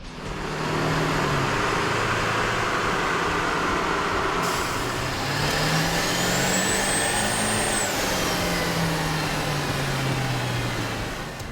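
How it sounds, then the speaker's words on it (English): Ford F350 Super Duty with a 7.3L V8 diesel and K&N air intake, revving on a dyno: a steady loud engine roar with rising and falling pitch sweeps, continuous throughout with no talk. "With the air intake installed, we ran the vehicle on the dyno to test the sound comparison versus the stock intake."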